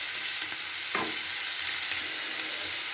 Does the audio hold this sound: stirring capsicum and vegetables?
yes